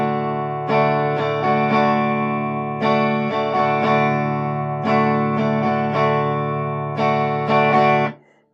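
Guitar strummed in an intermediate rhythm pattern, repeated chord strokes in a steady groove with accents on the beats, sounding bright and full with an effects-processed tone, played alone.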